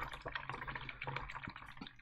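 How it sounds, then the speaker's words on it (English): A paint brush is swished and rinsed in a small container of water during model painting, giving soft close splashing and dripping for about two seconds with no talking. "I need to rinse that one off."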